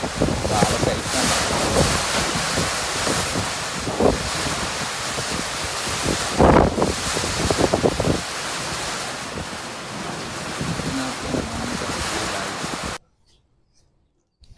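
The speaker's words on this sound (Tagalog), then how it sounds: "alas 3, nag-umpisa yung malakas na yung hangin" Strong typhoon wind buffets the microphone in a coastal area, a loud continuous roar with heavy gusts and surging bursts, before the sound cuts out abruptly near the end.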